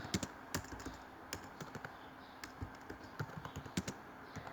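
Python code is typed on a computer keyboard, an irregular run of close, soft key clicks and taps with short pauses, in a quiet room without talk.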